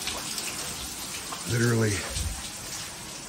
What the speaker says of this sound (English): You see the water coming through there.